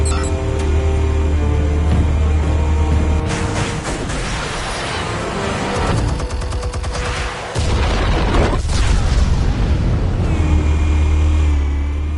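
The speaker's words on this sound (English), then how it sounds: "Explosives armed. Fire when ready." Explosives detonating in a Batman video game, a dense loud burst of blasts and rumbling debris running throughout, with a brief dip midway before the booming resumes.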